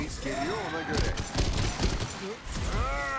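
Rapid gunfire from the shooter game Synced, sustained bursts and sharp shots over in-game music and effects while someone talks excitedly throughout.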